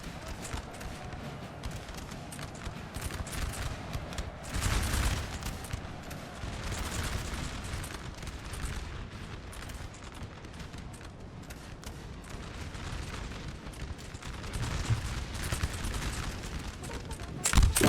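Musket volleys in Napoleon Total War during a Fuentes de Oñoro battle: dense, distant crackling fusillades roll on continuously, swelling in a few places, while a voice talks over the din.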